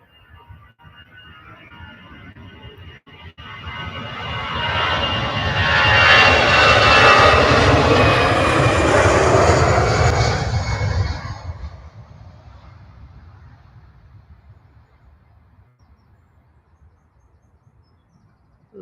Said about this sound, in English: EasyJet off out now.